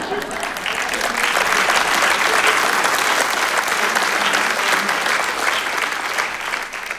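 A large comedy show crowd breaks into dense, sustained applause that swells loudly and stays steady for several seconds before tapering slightly, with faint crowd murmur underneath.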